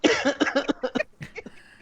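One person close to the microphone lets out a quick run of short, staged coughs and throat-clearing sounds, like a mock cough.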